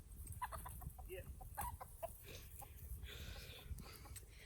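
Chickens cluck in a fall garden with a scatter of short, faint calls at a moderate distance over steady outdoor background noise. Soft voices may be present.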